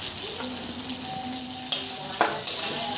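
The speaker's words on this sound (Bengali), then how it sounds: "কড়াতে একটু তেল দিয়ে দেব আর কালো জিরে দেব" Nigella seeds and pre-fried tomato and onion sizzle in oil in a wok. The frying is steady and close, with occasional stirring clinks and scrapes.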